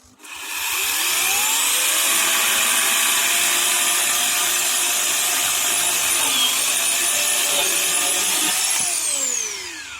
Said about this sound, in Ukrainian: особо на неї не налягаю, вона ріже, можна сказати, сама.